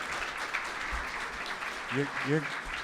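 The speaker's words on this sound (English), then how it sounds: "How about a round of applause for Ryan" Brief applause from a conference audience honouring a presenter after a talk on ground heat exchanger design, scattered clapping over a room murmur, with a voice speaking briefly near the end.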